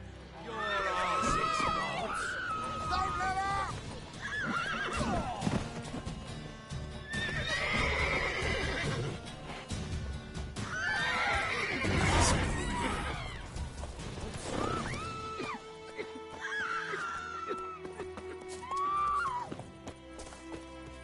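Roach, a horse in the video game Witcher 3, whinnies several times in repeated bursts, with clip-clopping hooves and scuffles mixed in. Voices talk throughout underneath.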